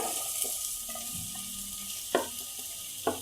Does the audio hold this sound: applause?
no